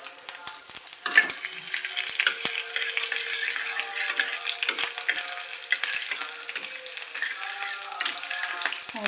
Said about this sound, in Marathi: मेथी चांगली फ्राय करायची